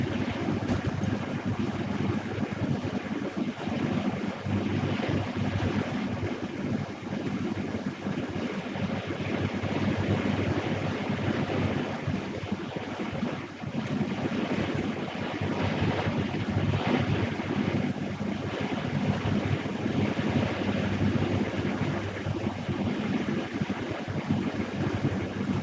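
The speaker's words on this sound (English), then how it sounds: "it's windy out here." Strong wind buffets the microphone outdoors in a continuous, loud roar that blends with a broad waterside wash, steady for the whole stretch with no speech.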